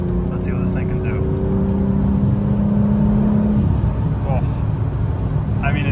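A BMW M4 CSL engine pulls hard under acceleration, a loud rising drone from inside the cabin, while someone talks over the engine note.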